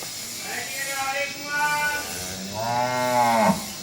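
A cow, kept for Qurbani sacrifice, gives repeated drawn-out moos and bellows, close and fairly loud, with a brief hiss between calls.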